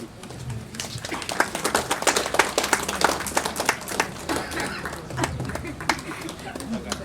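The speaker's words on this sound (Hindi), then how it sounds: "जोरदार तालियां" Scattered audience clapping at the launch of a free diagnostic service at an urban primary health centre, steady and moderately loud throughout, with voices murmuring underneath.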